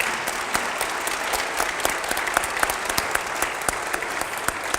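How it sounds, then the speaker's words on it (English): A crowd at a rural day gathering applauds two state legislators, dense steady clapping with sharp individual claps standing out, sustained and fairly close for several seconds. "Can we all give a round of applause to both of our legislators?"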